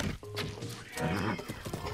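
A horse whinnies in the video game Breath of the Wild, a close, loud neigh amid clip-clopping hoofbeats.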